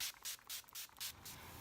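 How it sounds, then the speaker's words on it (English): Urban Decay All Nighter setting spray misted onto a face: about five short, soft hissing bursts in a quick rhythm, each lasting a fraction of a second, close and quiet, with no talk. "spraying some all-nighter setting spray from Urban Decay"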